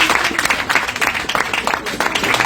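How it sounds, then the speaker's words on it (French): A church congregation at a Sunday service claps loudly and continuously, a dense wash of many hands with voices mixed in underneath. "On applaudit encore plus fort."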